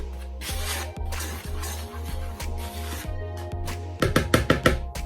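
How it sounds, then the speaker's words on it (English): Powdered seasoning is worked by hand into flour and cornstarch as a coating for coconut shrimp, giving a steady rhythmic rubbing and patting that turns into quicker, louder scrunches at the end. "Mix up all of those powder seasoning into your flour and your cornstarch"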